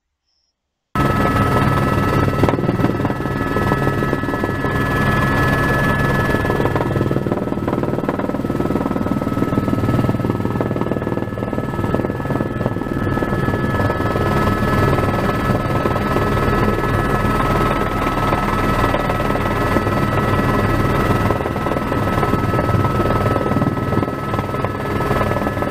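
A helicopter comes in to land, its rotor and turbine making a constant loud droning whine with a steady high tone, heard from inside the cabin without a break.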